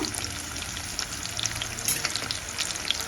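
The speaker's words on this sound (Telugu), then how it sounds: "ఇప్పుడు ఆనియన్స్ అయితే వేసుకుందాము" Onions frying in hot oil with mustard seeds and cumin for a cabbage stir-fry, a dense continuous sizzle with small pops and crackles close up.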